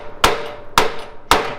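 Three loud metallic hammer blows ring out on the body of a crashed Mazda RX7 during a strip-down, evenly spaced about half a second apart, each a sharp clang with a short ringing tail, close and alone.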